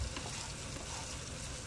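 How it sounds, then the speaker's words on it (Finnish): Ground beef and pork mince browning in a hot pan give a dense, steady sizzle with light stirring scrapes, close up and constant, with no voices. "paistettua jauhelihaa, että se ei jää puolittäyksi, että se on varmasti ihan kunnolla ruskistunut"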